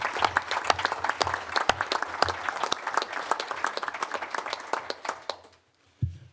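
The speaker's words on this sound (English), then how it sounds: "he needs a round of applause from everybody" Council members applaud in a meeting chamber at an annual council session, a moderate ripple of individual claps that thins out and stops after about five seconds, followed by silence and a brief thump.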